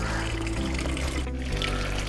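Water runs steadily through a one-inch pipe into the bottom of the second bucket of a low-cost aquaponics system, a continuous close pouring gurgle with no talk over it.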